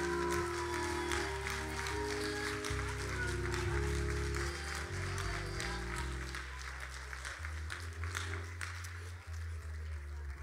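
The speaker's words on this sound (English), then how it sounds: "We got the Albany State guests clapping" An audience at a live stage play applauds the actors with sustained clapping and crowd noise for the full stretch, while music and talk continue underneath.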